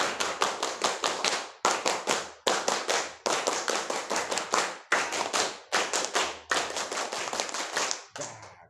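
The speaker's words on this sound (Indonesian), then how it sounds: "Mari kita semangati lagi dengan tepuk pramuka bersama-sama 3 kali" A class of seventh graders performs the Indonesian scout clap together, sharp unison claps in rapid rhythmic bursts separated by brief pauses, repeated in three rounds, loud and close, ending in a looser scatter.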